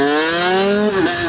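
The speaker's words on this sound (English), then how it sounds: "I love the sound of this bike." A motorcycle engine revs loud and close, its steady droning tone rising slightly before a short dip and recovery, with no talking over it.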